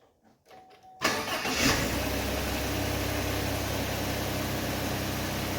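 A Chevrolet Silverado truck engine with a newly fitted starter cranks briefly and catches, roaring to life up close and then settling into a steady, loud idle.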